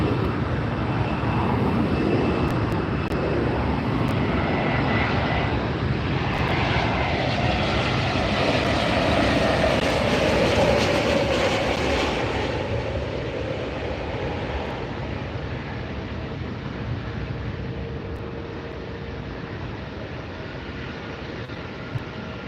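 Airliners landing and departing at the same time at LAX airport, a broad, loud jet roar heard from near the runway that swells mid-way and then slowly fades, with no voices.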